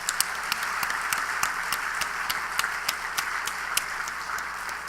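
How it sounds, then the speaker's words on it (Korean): A church congregation applauds during a revival service, dense steady clapping with some sharper individual claps standing out, sustained through the whole stretch at moderate loudness with no talk over it. "우리 한번 박수 한번 하십시다."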